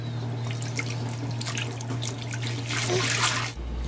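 Godeulppaegi greens being washed by hand in a sink, with steady running water and splashing throughout, a continuous close wash that cuts off near the end.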